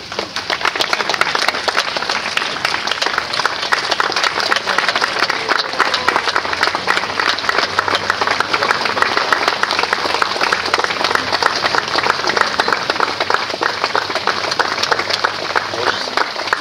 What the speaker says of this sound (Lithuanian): plojimams griaudant